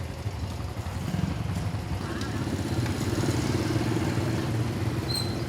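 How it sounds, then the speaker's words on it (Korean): Several motorcycles lined up in front of a house in the early morning, heard as a steady, continuous engine rumble from nearby idling bikes that swells slightly midway, with no clear talking. "이른 아침, 지영 씨 집 앞에 오토바이 부대가 줄지어 늘어섰다"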